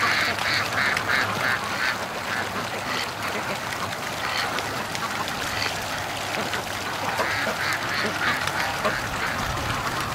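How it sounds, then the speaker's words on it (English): Ducks gathered on a creek keep up a continuous chorus of quacking and chatter under a steady wash of outdoor background noise, moderately loud, with no clear speech. "there is a lot of ducks still out there"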